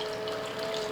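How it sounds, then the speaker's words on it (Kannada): A glass of water pours steadily into a simmering coconut curry, a soft continuous splashing stream heard close and alone throughout. "ನಾ ಇನ್ನೊಂದು ಗ್ಲಾಸ ನೀರು ಹಾಕೋತೀನಿ."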